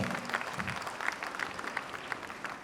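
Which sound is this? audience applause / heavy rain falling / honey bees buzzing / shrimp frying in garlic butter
audience applause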